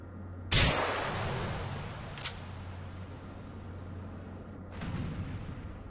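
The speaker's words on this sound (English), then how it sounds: "Fireworks." Fireworks burst in a game session: a sharp loud blast near the start, a shorter crack around two seconds, then another rising boom near the end, each trailing into a long noisy rumble with a steady low hum beneath.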